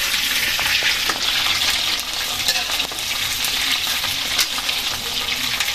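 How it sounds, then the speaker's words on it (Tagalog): Pre-boiled chicken feet fry in hot oil in a pan, a loud, steady crackling sizzle with frequent sharp pops and spatters, heard alone without talk. "ngayon naman po ang piniprito naman po natin ay yung ating pong chicken feet"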